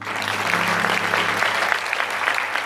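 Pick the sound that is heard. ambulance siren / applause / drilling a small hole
applause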